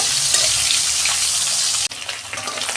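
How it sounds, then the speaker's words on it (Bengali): Fish frying in hot oil in a wok, a loud continuous crackling sizzle with a brief dip near the end. "তেল দিচ্ছি কড়ায়, 2টো করে মাছ ভেজে নেব"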